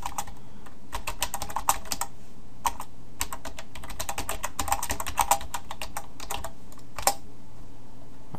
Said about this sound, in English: And I'm going to type in my office address.